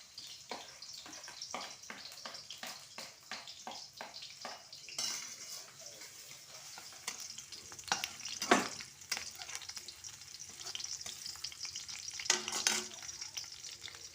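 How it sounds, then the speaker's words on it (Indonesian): Shallots and garlic drop into hot oil in a pan for a fish gulai, giving a crackling sizzle broken by quick clicks of stirring and scraping, with a louder burst of spattering partway through, all at close range with no voices. "ini minyaknya udah panas. Langsung aja Bunda masukkan bawang merah,"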